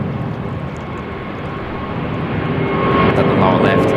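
A Boeing 787 Dreamliner at Sydney Airport produces a broad, steady jet roar that swells louder toward the end, with a voice talking over it.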